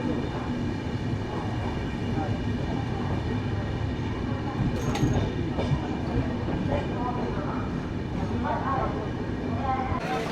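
An LHB passenger coach rolls along rails at speed in a steady rumble with rhythmic wheel clatter and a few brief squeals, while voices talk faintly inside the carriage.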